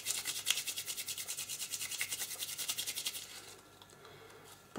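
Foamiran petals stacked in a pile are rubbed hard between the hands to thin them, giving a steady, rhythmic close-up scrubbing that stops after about three seconds, leaving quiet handling.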